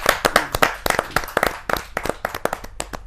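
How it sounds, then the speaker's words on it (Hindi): An audience at a Hindi poetry gathering claps to welcome a poet, a dense run of sharp, close handclaps that continues steadily throughout. "जोरदार ताली के साथ रसिक गुप्ता जी का स्वागत"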